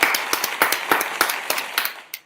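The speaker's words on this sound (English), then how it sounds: "Let me give you a round of applause." Clapping from a small group at an evening talent event, a handful of distinct, fairly close claps in a loose rhythm that trails off into one last clap.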